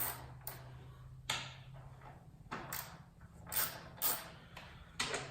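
Bolts are loosened on a Scaggs Moto tail rack fitted to a Honda CRF450L motorcycle: quiet, sporadic creaks and clicks of the tool turning, spaced irregularly over a low hum, with no talking.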